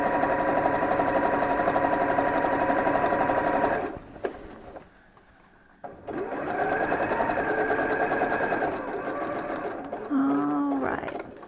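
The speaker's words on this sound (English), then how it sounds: "I did make my stitch for this necktie part just a smidgen wider" A sewing machine runs steadily while stitching a DIY medical isolation gown, a loud continuous mechanical whir that stops briefly, then resumes; a short rising whine is heard near the end.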